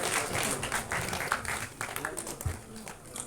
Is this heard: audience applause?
yes